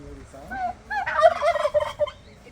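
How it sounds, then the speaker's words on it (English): A goose on a farm in Kapsabet, Kenya calls out while trying to attack, giving a close, loud run of rapid honking, gobbling cries over a couple of seconds with no talk. "The goose is trying to attack."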